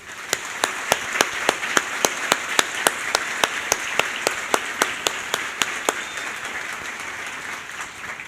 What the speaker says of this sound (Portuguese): A eles peço uma calorosa salva de palmas.